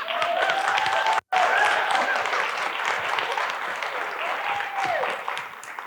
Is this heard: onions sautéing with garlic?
no